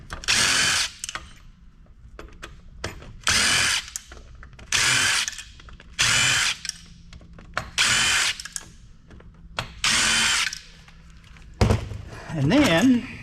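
A power drill backs screws out of a scrap amplifier in six or seven short, loud whirring bursts separated by brief pauses, with a voice speaking near the end.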